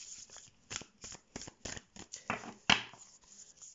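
Unlaminated, rough-textured tarot cards are shuffled by hand in repeated short rasping bursts, close and moderately loud, with one sharper snap near the end and no speech.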